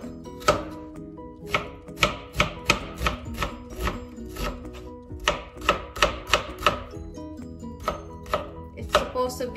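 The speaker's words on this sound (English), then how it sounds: "We're going to cut or slice the onion. We have to slice it very fine." A knife finely slices an onion on a cutting board, giving a quick series of crisp, close chopping taps in uneven bursts, with no talking.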